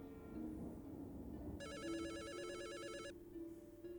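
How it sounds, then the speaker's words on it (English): Telephone rings out in the video game Return to Shironagasu Island, a clear electronic warbling ring burst lasting about a second and a half over a steady ambient game backdrop. "A phone call?"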